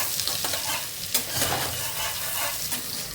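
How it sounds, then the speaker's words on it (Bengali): Onions sizzle and crackle in a hot pan, a steady loud hiss with occasional stirring scrapes. "পেঁয়াজটা ভাজা হোক একটু"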